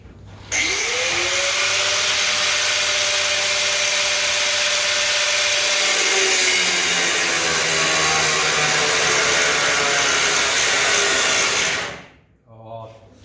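An angle grinder at work on a Bedford CA panel van (Windsor) spins up to a steady, loud, high whine and holds it for about eleven seconds before winding down abruptly, with no talk over it.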